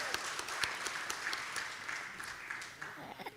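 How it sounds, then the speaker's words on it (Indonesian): Audience applause for Erick Thohir at a state-enterprise youth event, a dense, steady patter of many hands clapping at moderate distance, fairly quiet, with little talk over it. "Tepuk tangan untuk Bapak Erick Thohir."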